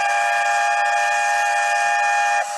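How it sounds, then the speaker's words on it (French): A Paris RER A suburban train, heard as a loud, steady tonal hum with several sustained pitches, most likely from the train's motor, that holds for over two seconds and then drops off abruptly near the end. "Ça c'est le son du RER A qui vous amène à la Défense."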